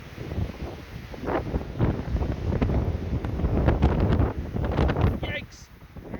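Strong blizzard wind gusts blast across a microphone outdoors in Newton, Iowa, in March, roaring and buffeting loudly in uneven surges, with a person's voice partly heard under the wind.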